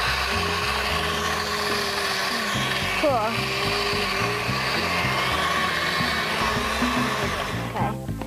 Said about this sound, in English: Then blend your ingredients for 25 seconds.